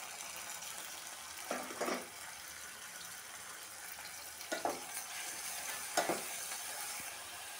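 Onions and grated tomatoes for egg keema curry fry over medium flame in a soft, steady sizzle, broken by a few brief stirring bursts; faint and close.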